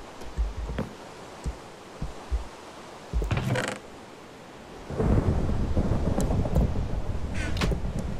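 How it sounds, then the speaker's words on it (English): Rumbling thunder from lightning in the Minecraft video game, a long low roll that swells partway through and holds loud to the end, with a few soft clicks earlier on. "Lightning, not good."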